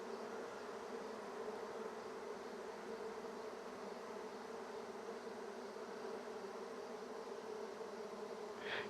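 Honey bees swarm noisily in an opened hive worked without smoke, producing a dense, continuous buzzing drone that stays even and unbroken from start to finish.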